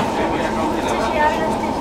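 Bhagirathi Express rolling into Sealdah station, a steady close rumble of the train throughout with voices murmuring in the background.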